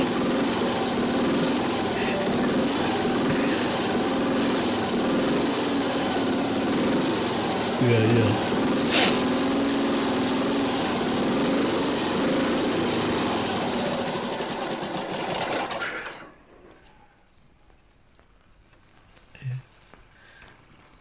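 A motorcycle engine runs loudly and steadily for about fifteen seconds, then cuts out and leaves near quiet, with a brief voice speaking afterward.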